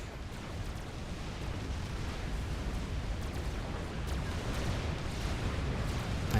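Overcharge blasts and explosions in the real-time strategy game Supreme Commander, a dense continuous rumble of booms and battle noise at steady loudness throughout.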